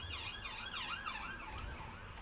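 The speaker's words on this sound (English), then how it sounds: "That's a second siren." An emergency vehicle siren wails outside a house, its pitch sweeping steadily up and down at moderate distance, with a low rumble of background noise and no talking.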